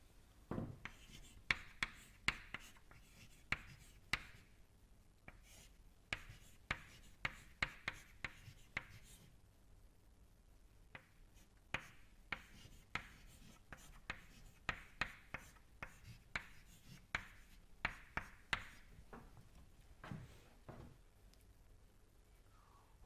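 Chalk or marker writing on a board during a fluid mechanics lecture, with a long series of scratchy strokes and sharp taps, fairly faint and roomy, pausing briefly now and then, with no talk over it.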